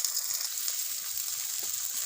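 Onions dropped into hot oil with melted sugar give a steady close bright sizzle, continuous hiss with faint crackles and no voices.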